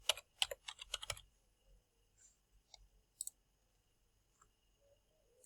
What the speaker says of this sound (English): So let's type in fitness.